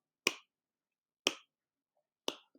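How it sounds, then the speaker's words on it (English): Three soft, quiet hand claps land about one second apart, each a short crisp slap that fades fast, with silence between them and no other sound. "So if I clap really soft,"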